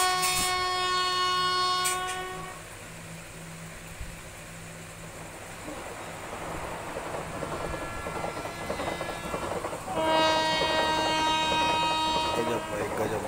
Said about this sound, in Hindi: कोई ट्रेन आ रही है भाई